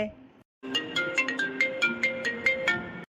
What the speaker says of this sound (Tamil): என்ன ஃபோன் சவுண்டு கேட்குது